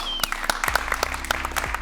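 Brief bursts of audience applause at a live comedy show, a short patter of claps over a faint background hum, with no clear talk.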